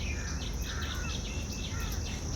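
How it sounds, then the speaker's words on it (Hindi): Birds singing in a park on a morning walk: bright, repeated high chirps and trills over a dense, steady hum of insect-like buzzing, with no one speaking. "बहुत ही आनंद देने वाला पक्षियों की मधुर आवाज़"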